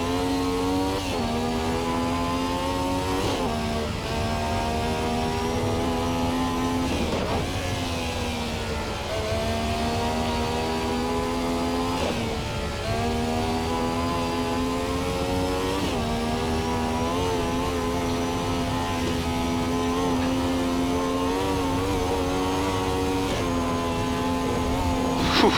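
A Ferrari 312T racing car engine revs hard for a long stretch, its loud rising and falling howl repeating in waves, close and without talk.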